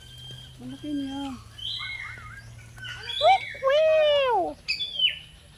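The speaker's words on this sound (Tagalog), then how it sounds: "Yung parot na white yata." A white parrot gives a run of squawks and whistling calls close by, some sliding and warbling, the loudest near the end. Excited voices talk around the calls.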